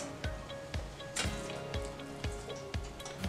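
Hot oil heating for frying saltfish fritters sizzles steadily, punctuated by soft, regular pops or taps about twice a second.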